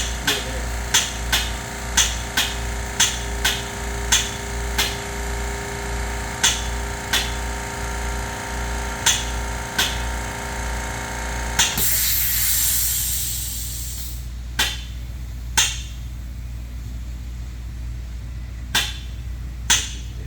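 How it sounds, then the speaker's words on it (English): The compressor and pump of an electrostatic sprayer run with a steady mechanical hum and regular rapid knocking, then a loud hiss bursts out and settles into quieter running with occasional clicks. "That's the compressor you're hearing,"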